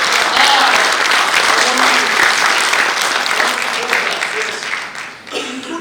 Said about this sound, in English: applaud for her just now